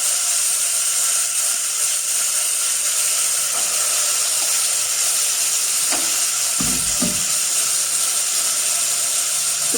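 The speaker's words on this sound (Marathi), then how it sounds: "आता दाणे आणि बटाटा जो आहे तो आता मी फोडणीवरती घालते" Peas and potatoes sizzle loudly and steadily in hot tempering oil for a Marathi usal dish, with a few soft stirring knocks under the constant frying hiss.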